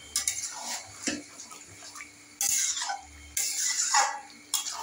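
Chicken pieces go into a pot of biryani masala with a few clattering knocks of a spoon against metal and brief wet splashes, close and loud in short bursts, without speech.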